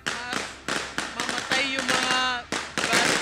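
Kwitis rockets and Judas belt firecrackers go off together at a New Year celebration in Barangay Balatas, a rapid series of sharp, loud cracks and pops overlapping one another, with a voice speaking over the bursts.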